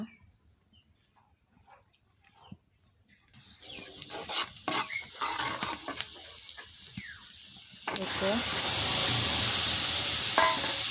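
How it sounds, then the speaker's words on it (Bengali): Taki fish go into hot oil in a wok, and after a quiet start the frying builds into a loud, steady sizzle with stirring, close and without talk. "এখন আমি কড়াইতে তেল দিয়ে দিয়েছি টাকি মাছগুলো ভাজি করার জন্য"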